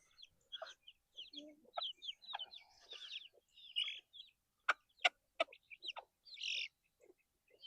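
Chicks being fed scrambled eggs mixed with herbs make a run of soft clucks and sharp, high chirps in quick, irregular bursts. The sounds are close and fairly quiet, with no talking.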